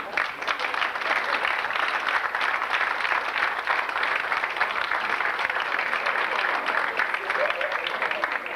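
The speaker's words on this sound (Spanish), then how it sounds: "vamos a darle un aplauso y a darnos un aplauso a todos" Sustained applause from a lecture audience after a talk on Monterrey architecture, a dense, even clatter of many hands that holds steady and close for the whole stretch without voices.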